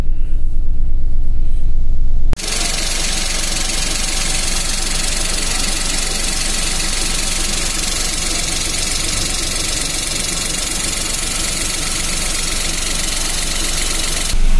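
Car engine idling steadily on Mesran SE40 oil mixed with cooking oil, a continuous low rumble with a faint knocking texture, close and loud, following a brief different noise at the start.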